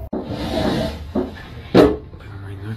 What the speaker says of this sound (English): What sounds like a door opening and closing.